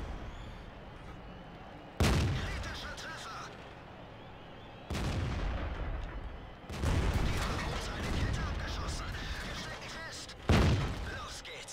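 Tank cannon shots in World of Tanks: four heavy, booming blasts spaced several seconds apart, each followed by a lingering rumbling decay, with voices talking in between.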